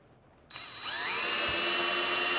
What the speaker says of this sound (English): Just like that, we're drilling.